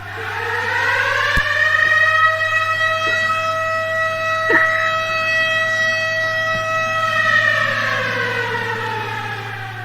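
A wailing siren holds a steady, rising and sustained tone, loud and continuous, with a low constant hum underneath and no voices.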